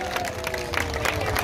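Crowd at an outdoor political campaign rally in Mumbai breaking into sustained applause and cheering, a dense wash of clapping that holds steady throughout with a low murmur of voices beneath.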